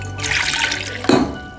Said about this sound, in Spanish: vamos a poner una tacita de agua